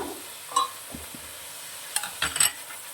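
Onions cooking with ground coriander and cumin in a pan, stirred with a utensil: a few scattered scrapes and light metallic knocks over a quiet low sizzle, close by and without talk.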